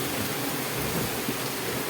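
Steady rain hiss with a low rumble underneath, heard from inside a vehicle, continuous and even throughout, no voices.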